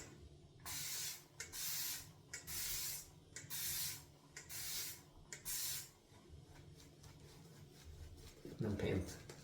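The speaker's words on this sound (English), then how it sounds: "This is a really thirsty base, so let's go 3 sprays." A spray bottle mists a thirsty shaving soap base in three distinct bursts, each a bright hissing spritz, close and clear, followed by softer rubbing and handling noises.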